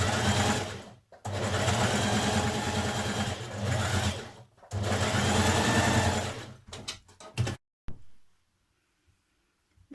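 Domestic sewing machine stitching a line of ease around a blouse sleeve cap for a 1940s vintage-style blouse, running in long steady bursts with brief pauses, then stopping into near silence.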